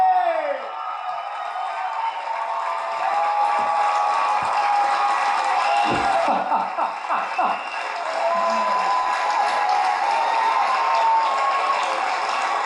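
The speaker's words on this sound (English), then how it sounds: "Give him a round of applause." A live audience claps and whoops after a marriage proposal on stage, a sustained loud wash of applause and cheers with a voice talking over it in places.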